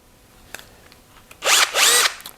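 A Bosch GSR 12V-35 Professional compact 12 V cordless drill-driver whirs in two loud, close bursts of about half a second each, with a brief pause between them and faint handling clicks before.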